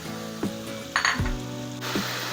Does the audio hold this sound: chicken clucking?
no